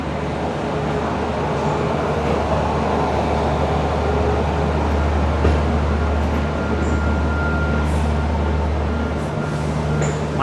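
SF Express train 12164 from Chennai pulls into platform 2 at Lokmanya Tilak Terminus in Mumbai, a loud, continuous low rumble of rolling carriages close by.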